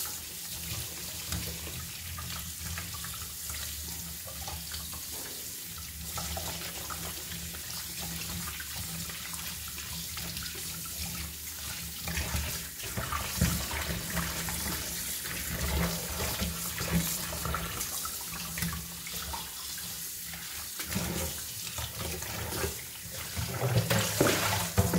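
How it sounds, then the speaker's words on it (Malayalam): Tap water runs steadily while mutton liver is washed under it, a continuous splashing gush at close range that grows slightly louder toward the end. "നന്നായി വെള്ളം ഒഴിച്ച് വാഷ് ചെയ്യാൻ വേണം."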